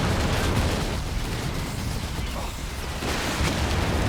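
5.5-inch artillery shells land in Company of Heroes 3 amid continuous loud rumbling battle noise, dense explosions and gunfire blending into a heavy roar throughout.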